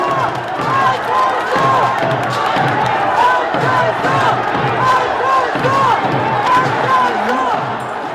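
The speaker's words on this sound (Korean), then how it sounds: "안철수 후보께 다시 한번 큰 박수 보내주시기 바랍니다" A large crowd applauds steadily at a political party leadership convention, a dense wash of clapping sustained throughout, with faint rhythmic chanting or cheers woven in.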